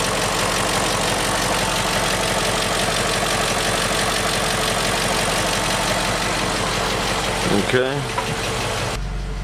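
A BMW X5 engine idles steadily at close range with a rough, knocking drone, then cuts off near the end, and a voice says a brief word.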